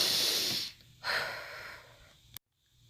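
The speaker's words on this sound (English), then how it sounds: "deep breath." A person takes a deep breath: a long hissing inhale followed by a slower exhale, close and alone, ending with a short click before silence.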